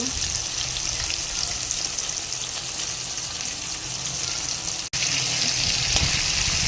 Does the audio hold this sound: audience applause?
no